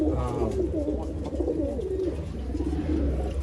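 Pigeons in a loft kept for sale coo in low, rolling, overlapping calls that continue without a break, close and fairly loud, with no other sound standing out.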